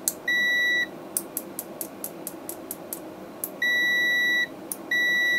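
A MESTEK DM100C multimeter in continuity mode gives a sustained, steady beep, cuts off during a stretch of light tapping clicks, then beeps again twice when the probes touch.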